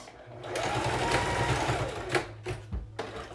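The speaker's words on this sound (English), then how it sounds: "At the end and back stitch to close off the end." A sewing machine back-stitches the end of a seam on a fabric face mask. It runs in a steady close whir, then stops with a few short bursts and clicks as the stitching reverses. A voice speaks under it.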